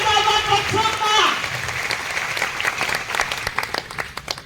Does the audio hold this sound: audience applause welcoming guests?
yes